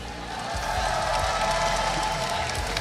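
Arena crowd at an Honor of Kings Invitational semi-final cheering and applauding for an esports team, a steady loud roar of many voices and claps throughout.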